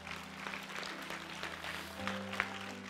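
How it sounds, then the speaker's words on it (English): A church congregation claps hands together during an evening service, a steady wash of many hands with some music underneath, moderately loud and close. "Come on, let's clap our hands here tonight."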